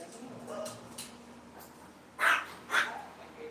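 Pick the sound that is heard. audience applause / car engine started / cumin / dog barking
dog barking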